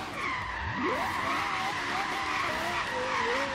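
In Forza Horizon 3, a turbocharged Lexus LFA drift build's engine whines at high revs while tires squeal in a drift, the pitch dipping sharply then climbing and holding in a steady howl.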